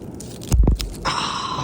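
Sea balls pop with a short burst of close, squishy crunching, then a faint hiss follows.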